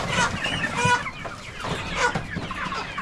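Chickens on a poultry farm cluck close by in repeated short bursts, several birds overlapping in a busy, uneven rhythm.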